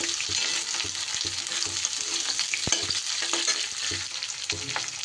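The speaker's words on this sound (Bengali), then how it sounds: "এই পেঁয়াজ আর ক্যাপসিকামটা একটু নাড়াচাড়া করতে করতে" Chopped onion and capsicum frying in a pan for chilli cauliflower, stirred as they cook: a dense, steady close sizzle with frequent scraping and knocking of the spatula and no talk.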